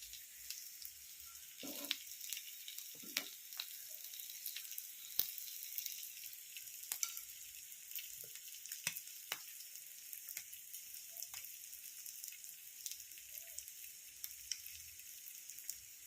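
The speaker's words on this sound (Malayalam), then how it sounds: "കുറച്ച് എണ്ണ ഒഴിച്ച് വറുത്തെടുക്കുക." Dried paravu fish frying in oil in a home kitchen, a steady soft sizzle with occasional small pops and clinks, quiet and continuous throughout with no talk.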